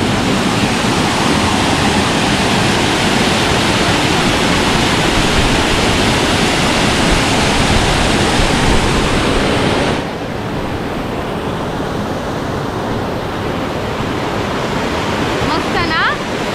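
A waterfall in May near a village roars as a loud, dense, unbroken rush of water close by, easing slightly partway through but staying steady throughout.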